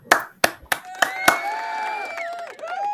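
A few sharp hand claps ring out in an evenly spaced sequence of five close, loud strikes, followed by tonal electronic sounds and whistling tones, a small celebration after clinching the number one seed.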